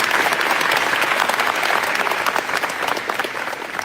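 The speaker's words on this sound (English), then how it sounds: "So can we give them a round of applause?" A crowd applauds for the parents of a young athlete at a live commitment event, with dense, sustained clapping filling the space and gradually easing toward the end.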